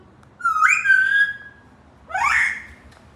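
Two whistled phrases, each a rising, bird-like tone; a longer sweep, a pause, then a shorter upward swoop, clear against a quiet background.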